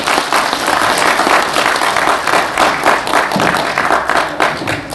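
Sustained applause from an audience at a special lecture and general assembly fills the hall, steady and dense from start to finish with no talking over it.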